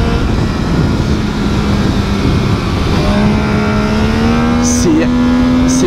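Riding on an MV Agusta Brutal 800 motorcycle, the engine drones loudly and continuously up close, its pitch sliding and climbing as the bike accelerates, with wind roar underneath and brief voices.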